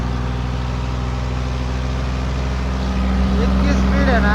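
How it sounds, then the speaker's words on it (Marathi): A tractor engine runs with a loud, steady drone and a deep hum that grows slightly louder near the end, while someone talks over it. "तोवर ट्रॅक्टर एकदम दामानात चालतं"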